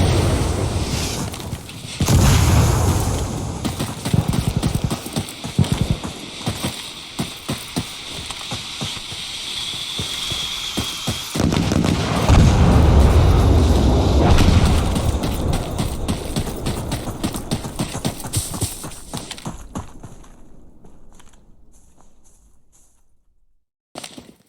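An artillery barrage in the game Insurgency Sandstorm rumbles with heavy, continuous booms and crackling impacts, loud and dense for most of the stretch, then fading toward the end.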